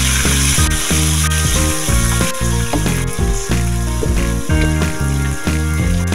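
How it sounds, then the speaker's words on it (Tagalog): Pork liver pan-frying in hot oil hisses in a steady, loud sizzle, with rhythmic clattering and scraping layered over it. "i-pan fry muna natin itong pork liver"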